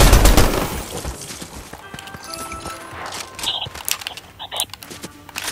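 Scattered gunfire in Fortnite, with a burst of rapid shots at the start, then irregular single cracks and hits over game effects, moderately loud.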